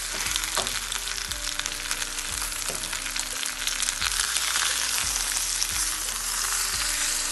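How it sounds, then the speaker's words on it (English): Honey garlic pork chops sizzle loudly and steadily in a grill pan, a close, continuous frying hiss with faint scraping and clinks underneath and no talking. "just enough to kind of cook in the sauce a little bit and get some grill marks on the pork chop"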